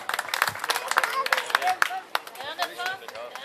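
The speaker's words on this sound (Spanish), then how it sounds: "Fuerte el aplauso para el campeón de la categoría" Applause and clapping from a crowd at a shore fishing tournament awards, a few seconds of uneven claps mixed with cheering and talk over a loudspeaker.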